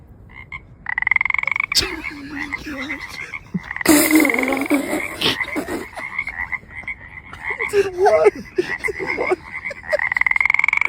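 A frog sitting on a table croaks in repeated bursts, close and fairly loud, with pauses and some scuffling noises between calls.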